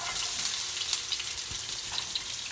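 Onions frying in a hot pan, a continuous dense sizzle with light stirring taps, close and steady with no talk.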